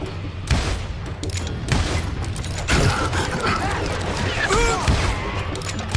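Gunfire rings out in the western shooter Call of Juarez: Gunslinger, bursts of shots and impacts scattered over game sounds with a voice shouting between the volleys.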